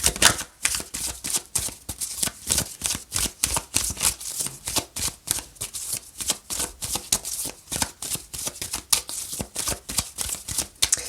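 Oracle cards being shuffled during an astrology card reading: a steady, close, fast-riffling patter of card flicks running throughout, with no talking.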